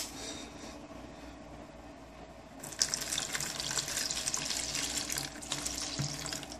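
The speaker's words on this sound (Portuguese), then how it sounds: "Agora nós vamos colocar o leite." Milk poured into a fermenting bread dough mixture in a home kitchen, a soft steady stream that swells into a fuller splashing pour after a few seconds and continues close by.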